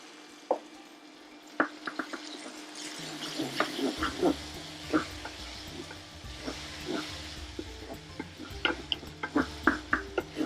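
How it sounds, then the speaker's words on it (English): Garlic and ginger paste sizzling in a stainless steel pan on an induction cooker, a steady frying hiss broken by frequent small pops and scraping stirs, close up. "now I'm going to put the garlic and ginger paste in"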